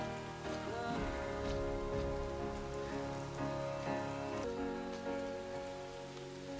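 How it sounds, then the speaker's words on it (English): Rain falls steadily through a movie scene, a continuous soft patter and hiss that sits under faint tonal background music and stays fairly quiet throughout, with no voices. "Yeah, and it's raining now."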